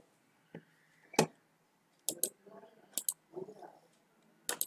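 Computer mouse clicks in a web console, a few crisp sharp clicks near the mic, with bits of quiet speech between them.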